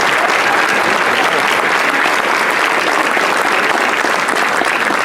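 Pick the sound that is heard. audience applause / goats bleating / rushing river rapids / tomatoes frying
audience applause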